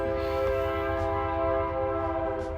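A train passes close by with its horn sounding steadily throughout, a sustained multi-tone blare over the low rumble of the rail cars, loud and continuous.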